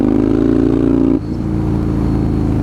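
A straight-piped motorcycle runs loud and close, its engine note holding steady, then dropping abruptly and settling back into a rougher idle-like drone.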